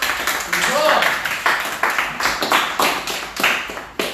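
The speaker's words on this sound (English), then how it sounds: "Ladies and gentlemen, round of applause." A small group gives a round of applause during a training session, brisk overlapping claps in a steady rhythm, close and moderately loud, with no speech over it.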